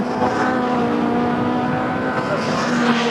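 Touring race cars, including a Ford Sierra, race in the 1990 British Touring Car Championship, with a dense, steady engine roar and a constant buzzing tone under continuous commentary.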